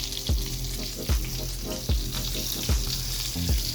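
Purple onion with tomato and pepper sizzles loudly in a pan, a steady broadband frying hiss with bright crackling spatter. Low thuds land about every 0.8 seconds, like something being moved or stirred in a regular rhythm.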